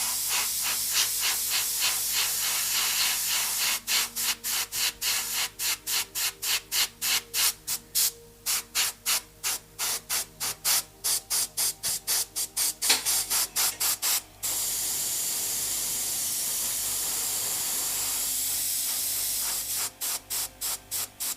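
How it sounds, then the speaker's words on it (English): An airbrush sprays paint onto a miniature, giving a steady close hiss broken by a long run of rapid rhythmic pulses of air, then settling back into continuous spraying. "we just need to put the piece in this way and push and airbrushing from this side the miniature"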